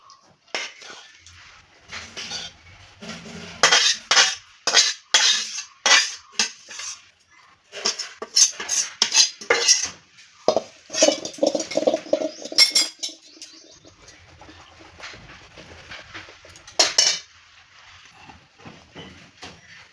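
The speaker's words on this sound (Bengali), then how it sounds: "এবার আমি আবার ভাতটা দিয়ে দিচ্ছি।" Cooked rice is spooned into a pot for chicken biryani, giving a run of metal clinks and scraping knocks from a spoon and utensils in irregular bursts, sharp and close, with quiet gaps between.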